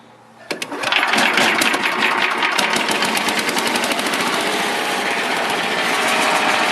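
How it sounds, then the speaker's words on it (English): A 1994 Troy-Bilt Chipper-Vac model 47279 starting from a cold pull: a short rope yank, then the small engine catches and settles into a loud, steady high-pitched buzzing idle with a fast rattly pulse, running alone. "There's some inertia though when you pull the pull rope because you're turning the engine and the blade assembly"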